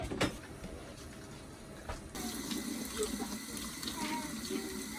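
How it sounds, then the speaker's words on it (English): Tap water runs into a sink as children wash their hands with soap at home, a steady hiss that grows fuller partway through, with faint background activity. "You guys go wash your hands with soap."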